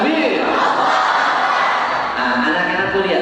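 A large crowd in a mosque chants takbir together in a loud, sustained roar of many voices.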